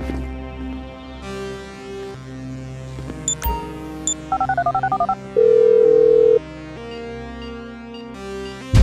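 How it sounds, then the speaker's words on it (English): Phone dialing in the video game Grand Theft Auto 5 on PS4: a quick run of electronic keypad beeps, a single longer tone, then a soft click, over a low game ambience. "I'm making the call."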